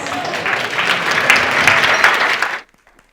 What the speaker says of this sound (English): you guys missed the cue for applause